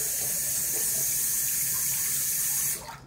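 Steady rush of water running from a tap, constant and close, cutting off abruptly near the end.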